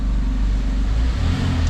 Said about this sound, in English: Put the camera outside so you can hear the engine a bit better.